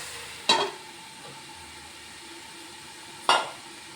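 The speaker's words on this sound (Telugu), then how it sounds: "కొంచెం ఉల్లిపాయ మగ్గితే వేగిపోతుంది అన్నమాట." Bitter gourd and onion fry in a pan with a soft, steady sizzle, broken twice by sharp metallic clinks of a spatula against the pan.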